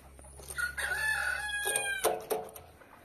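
Chickens in a newly built henhouse, with a rooster-like crowing call rising and falling under several overlapping clucks and squawks, close by and fairly loud, no talk.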